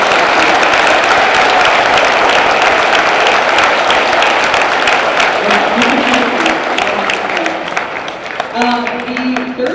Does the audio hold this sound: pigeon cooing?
no